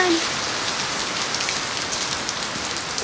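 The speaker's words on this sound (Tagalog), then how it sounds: "Umulan." Rain falls steadily on an island a few days after Mt. Kanlaon erupted, an even, close hiss of drops hitting surfaces without pause.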